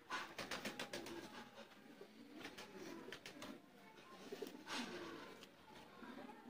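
Teddy pigeons of the Sakhi Bhatti strain coo in soft, repeated low murmurs, with a faint chirp and light rustling mixed through a steady background.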